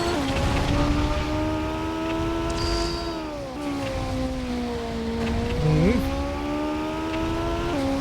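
A car driving in the video game Transformers: The Game, a steady, droning engine tone that rises and dips in pitch as it accelerates and eases, with a brief high squeal partway through.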